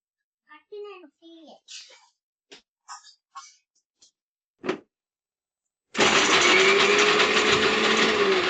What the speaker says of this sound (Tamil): கொஞ்சம் தேங்காய், கொஞ்சம் சீரகம், இதை வந்து கொஞ்சம் ரஃப்பாக அரைச்சிட்டு வந்துடலாம்